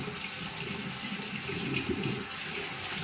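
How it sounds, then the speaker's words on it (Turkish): Tap water runs steadily into a sink during handwashing, a continuous close hiss with no talking. "ellerimi de yıkayayım"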